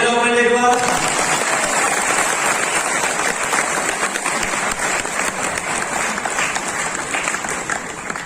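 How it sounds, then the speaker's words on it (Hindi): Loud, sustained applause from an audience at a direct-selling success training session, dense clapping that fills the space after a brief opening tone and holds steady to the end. "तालियां बजाओ पहले एक बार।"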